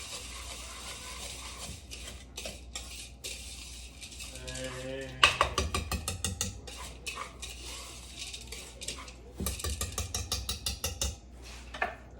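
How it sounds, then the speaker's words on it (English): Pretzels being stirred and coated in melted butter for a strawberry pretzel salad, giving repeated close scraping and clacking against the bowl in bursts, with a brief rattling patch midway. "we're going to stir all of that around. And you want to make sure all your pretzels get coated with that butter"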